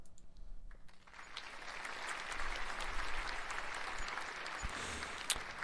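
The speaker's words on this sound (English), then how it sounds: "I expected you to applause again" Applause from a live audience swells after a brief pause and holds as steady, fairly quiet clapping, with a few sharper claps near the end.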